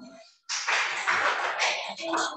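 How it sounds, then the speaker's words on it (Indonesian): Students in a hybrid accounting class clap for a presenting group, a burst of close, loud clapping that starts abruptly after a short pause and carries on steadily, with a voice faintly at the start. "Kita tepuk tangan ya"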